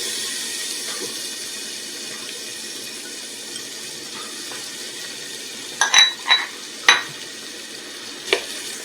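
A large onion sautes in a pan for a mushroom cream soup, with a steady soft sizzle throughout and a few brief clinks and scrapes of a utensil near the end.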